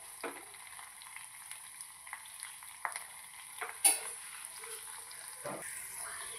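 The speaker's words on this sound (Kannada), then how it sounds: "ಚಂದ ಇದೆಲ್ಲ ಚಂದ ಎಣ್ಣೆಗೆ ಎಲ್ಲ ಚಂದ ಫ್ರೈ ಆಗಬೇಕು" Neem leaves fry in hot oil for a homemade hair oil, giving a soft, steady sizzle with occasional stirring scrapes and small pops, fairly faint and with no talking.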